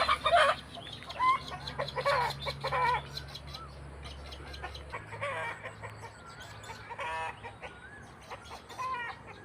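Several chickens around a Thai rural home cluck in short, irregular bursts, close and fairly loud, over a low steady hum, with no talking.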